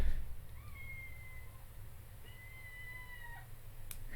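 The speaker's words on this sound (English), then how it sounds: "I have a kitten." A kitten meows a few times, thin high cries over a low background hum, fairly close and alone without talk.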